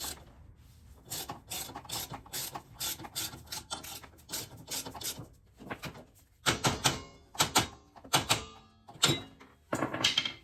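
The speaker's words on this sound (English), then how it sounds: "you're better off just going slow with a hand ratchet" Hand ratchet turning brake bolts on a backing plate, steady soft clicking strokes that grow louder and more uneven toward the end, close and quiet with no talk.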